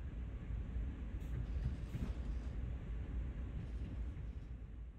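CSX heavy haul diesel locomotive in Train Sim World, a steady low engine rumble and rolling drone as the train moves, fairly faint and continuous with no talking.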